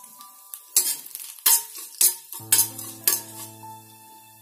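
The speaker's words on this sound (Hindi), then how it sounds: "हम इसमें डालेंगे थोड़े से करी पत्ते" Curry leaves dropped into a hot tempering of spluttering mustard seeds and cumin crackle and sizzle, with a series of sharp stirring and clinking strikes of a spoon against the pan over a steady frying hiss, no talking.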